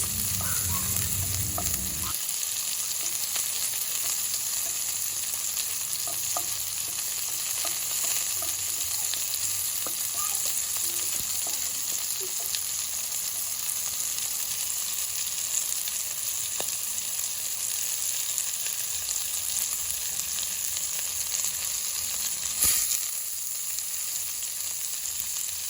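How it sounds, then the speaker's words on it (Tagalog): Garlic, onion and spices sautéing in a pan for a beef dish, a steady close hissing sizzle with occasional faint stirring scrapes, no voices. "dito na rin po tayo mag-gigisa ng ating garlic, onion, and all the spices"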